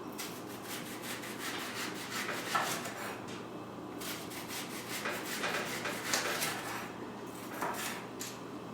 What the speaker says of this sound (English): So we're going to begin dicing the onions.